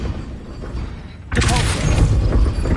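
Wingardium Leviosa spell effect in Hogwarts Legacy that bursts in with a loud, dense whooshing rumble partway through and holds steady after a quieter ambient stretch.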